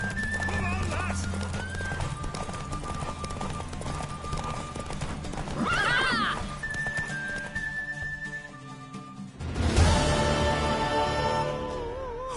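Horse hooves clip-clop at a run in the Witcher 3 video game, with a whinny midway and a louder burst near the end, over background music, with speech heard at times.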